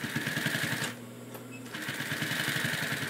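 A sewing machine stitches a throw pillow in a steady, rapid mechanical rhythm, stops briefly partway through, then resumes at the same close, even pace.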